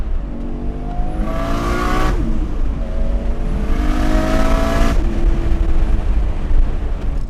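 Nissan R34 GT-R driving on a bumpy road, a steady loud engine drone with two rising revs as it accelerates through the gears over constant road rumble, heard from inside the car.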